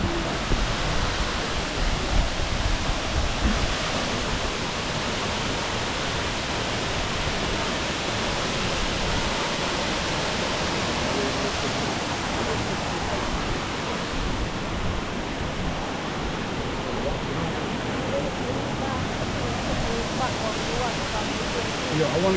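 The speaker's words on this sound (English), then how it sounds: "I'm at the riverbank, have the waterfall." Waterfall at a riverbank in St Vincent, a steady, dense roar of rushing water that stays constant and fairly loud throughout, with no clear breaks.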